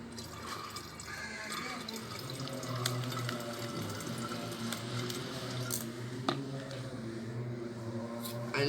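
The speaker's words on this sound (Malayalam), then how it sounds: "ഫസ്റ്റാണ് നമ്മൾ ഈ ഗ്ലാസ് ബോട്ടിലേക്ക് വെള്ളം ഒഴിച്ചു കൊടുക്കുക." Water poured into a glass bottle, a steady running and trickling stream that fills the bottle alone with no voices, continuous and fairly close throughout.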